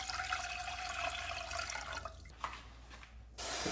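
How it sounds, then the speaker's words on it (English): About 500 millilitres of water is poured into a pot for river snail noodle soup, a steady close splashing trickle that thins out after a couple of seconds. "Add another 500 milliliters of water."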